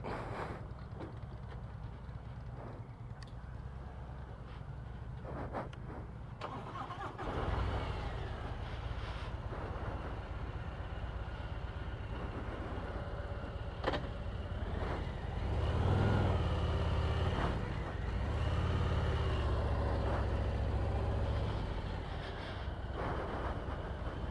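A 2022 Harley-Davidson Street Glide ST engine rumbles steadily and deeply, swelling louder with throttle around the middle and again later before settling back to an even idle-like drone.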